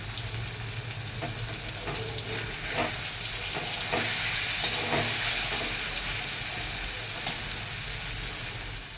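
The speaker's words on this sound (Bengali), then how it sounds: "পনিরটা ভেজে নেমে দিচ্ছি" Paneer frying in hot oil in a home kitchen, a steady close sizzle throughout with occasional sharper pops and crackles, no talking.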